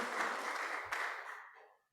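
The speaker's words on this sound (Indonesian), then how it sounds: "Mari kita beri tepuk tangan yang meriah." Church congregation at an Easter dawn service applauding in a brief, dense burst of clapping that fades out after under two seconds.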